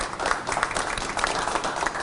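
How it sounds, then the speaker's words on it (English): Steady applause from a crowd, a dense patter of many hands clapping at an even level with no pauses. "So she deserves a special round of applause for that."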